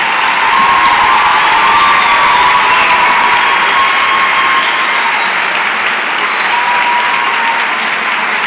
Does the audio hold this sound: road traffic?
no